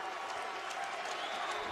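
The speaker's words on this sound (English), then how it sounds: "Crowd getting into it here at the Crampton Bowl" A stadium crowd at the Crampton Bowl cheers and applauds during a SWAC championship football game, a steady wash of distant crowd noise under a commentator's voice.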